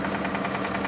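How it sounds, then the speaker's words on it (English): Engine of a 2005 Kia Sorento idling with a knocking noise, a steady low rumble with a faint rhythmic tapping pulse, close and continuous. "we have this Kia Sorento '05 has that engine noise in there."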